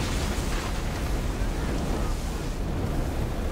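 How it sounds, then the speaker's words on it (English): A fire weapon from the naval combat in Assassin's Creed Odyssey burns enemies with a loud, continuous roaring whoosh of flames, dense and unbroken like a blast of wind and surf. "I'm setting fire to dirty men with my big fire gun."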